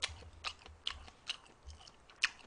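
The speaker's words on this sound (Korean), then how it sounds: "고걸좀 오래 씹어야 되네." Close, quiet chewing of braised beef short ribs with sinew attached near the bone: wet, squelching bites and soft crunches repeat every half second or so, with no talk over them.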